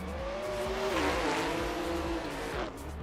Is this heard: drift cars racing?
yes